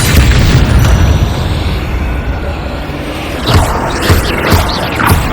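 Bombarda spell explosions in Hogwarts Legacy: a loud, rumbling boom fills the opening, then fades into a lower roar, followed by several smaller bursts and impacts in quick succession.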